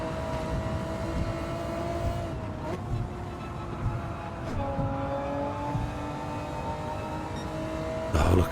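Honda NSX GT500 race car in Gran Turismo 7 on the Tokyo circuit, a steady high engine whine held at near-constant pitch with brief shifts at gear changes, loud and continuous throughout.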